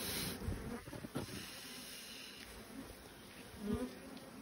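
Honey bees buzz steadily around an open hive being split, a faint, continuous hum with a few slightly louder passes of nearby bees.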